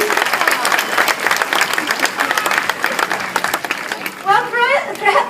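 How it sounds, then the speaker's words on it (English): Zoo audience applauding during a seal show at Taronga Zoo, a dense steady round of clapping from a crowd that fades near the end as a voice speaks over it. "if he does anything that you like, make sure you give him a big clap"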